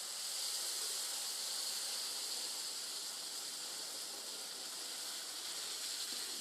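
Hot sugar syrup pouring slowly into roasted semolina for halwa, giving a continuous bright steamy hiss that holds at an even level throughout, close and without speech.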